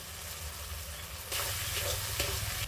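Spice paste with chilli powder and a splash of water sautéing in a pan for a paneer curry, a steady close sizzle that grows louder and hissier partway through as it is stirred.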